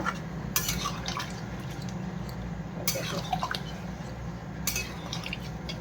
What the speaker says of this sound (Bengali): মাছ দেবো তো এর জন্য একটু বেশি করে জল দিতে হচ্ছে